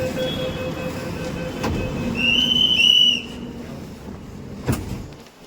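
A Mumbai metro train: a continuous rolling rumble with a high squealing whine in the middle and a few sharp knocks, heard from inside the carriage without talk.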